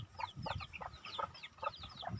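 A mother hen and her flock of young chicks cluck and peep on a backyard poultry farm, with close, steady, overlapping calls that come in quick bursts.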